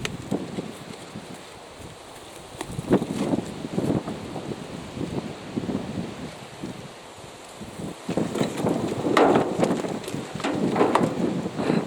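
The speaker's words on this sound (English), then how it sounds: "it really is a very, very blustery day" Blustery autumn wind gusts across an outdoor kitchen garden, rushing and buffeting the microphone in uneven surges that swell loudest toward the end, with faint rustling and no voices.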